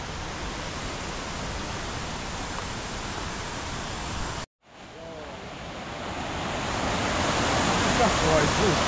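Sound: rushing water of the Vrbas river

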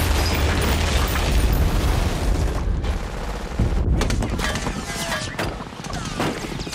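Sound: German machine gun fire in Saving Private Ryan

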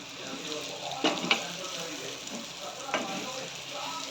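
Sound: food sizzling in oil on a griddle (tawa)

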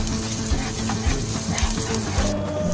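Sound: frying ingredients for spicy poha in a pan

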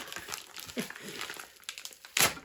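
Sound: tearing open a parcel package indoors

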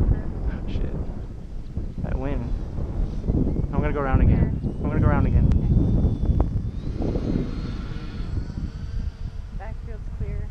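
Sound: P-38 model airplane engine flying past

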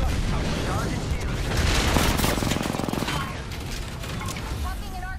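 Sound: gunfire in an Apex Legends-style shooter video game

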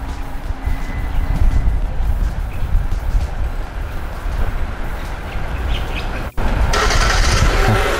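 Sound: car engine started remotely

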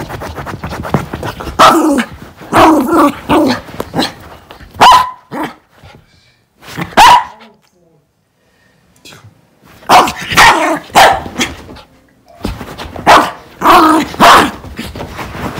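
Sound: dog barking loudly

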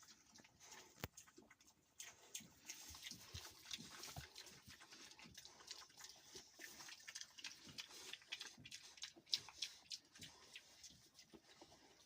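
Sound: piglets smacking while eating

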